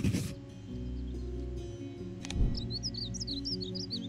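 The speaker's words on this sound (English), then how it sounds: "So here comes the bunting." A bunting's birdsong plays in the Wingspan board video game, several quick, bright chirping notes over a low, steady background hum and soft clicks.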